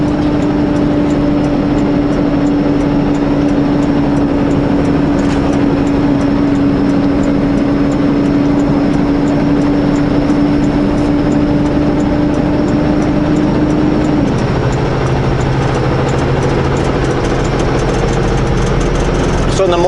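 A heavily loaded truck's engine drones steadily as it climbs a mountain hill in the cold, a constant low rumble with a sustained tone that drops in pitch near the end, as if shifting gears.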